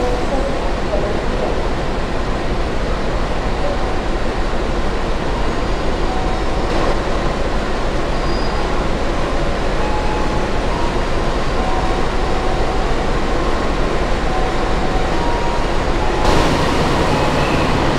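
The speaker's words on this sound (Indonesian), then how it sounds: "Lokomotif dinas untuk kereta Kamandaka tiba dari arah Semarang Poncol." A CC 206 diesel locomotive arrives to couple onto the Kamandaka passenger train, giving a steady, loud rumble of engine and rolling wheels throughout, with a brief louder surge near the end.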